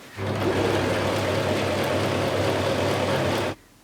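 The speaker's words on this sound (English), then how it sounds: "I'm gonna go ahead and sew this little bit just for 2 centimeters." A sewing machine stitches dress panels in one continuous, close, whirring run of about three seconds that stops abruptly, with no talking.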